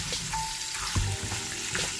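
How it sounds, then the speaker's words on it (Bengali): Okra fries with salt and turmeric in a hot pan, giving a continuous close sizzle broken by occasional scraping stirs. "এখন এই যে ঢেঁড়সটাকে লবণ আর হলুদ দিয়ে, নুন হলুদ দিয়ে একটুখানি ভেজে নেব"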